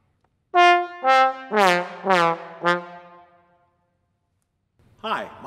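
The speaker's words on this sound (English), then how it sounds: "This is my trombone." A slide trombone plays five loud, sustained notes in succession, some bending as the slide moves, then goes silent before a brief final tone.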